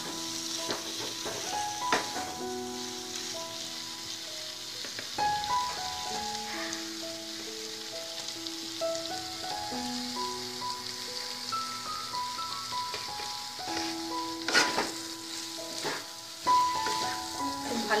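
Raw jackfruit and prawn fry with potatoes in a pan, giving a gentle, steady sizzle. Occasional stirring knocks and scrapes cut through the sizzle, and no one speaks.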